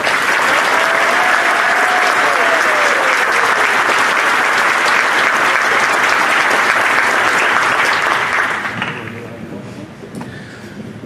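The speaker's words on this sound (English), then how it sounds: "please stand so we can all applaud your outstanding achievements" Graduation ceremony crowd at Coastal Bend College applauds the high school dual enrollment students, a loud continuous wash of clapping that holds for about eight seconds before fading out.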